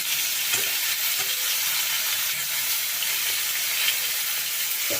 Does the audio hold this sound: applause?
no